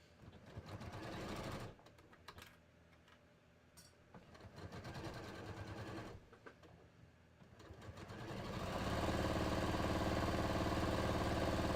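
A sewing machine stitches a sleeve seam with a half-inch allowance at a 2.5 stitch length, giving a close, fast mechanical whir in a few bursts with short pauses, then a longer steady run at the end.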